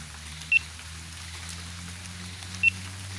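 Steady rain falls through a quiet outdoor scene, a soft even hiss with a low hum underneath and two sharp brief beeps breaking in, with no talking.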